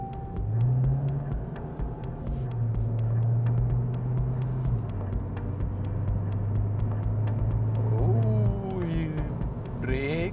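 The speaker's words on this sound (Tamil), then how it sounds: "brake and sharp U-turn" Steady engine rumble and road noise from a Skoda Octavia braking and swinging through a sharp U-turn, the engine note holding and shifting in pitch, with tyre and cabin noise and a voice speaking over it.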